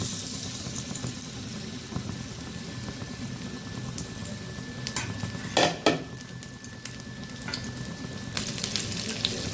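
Bok (hummingbird tree) flowers coated in bread crumbs fry in hot oil, giving a steady, close sizzle that runs throughout, with a brief clatter of a utensil midway and no talk.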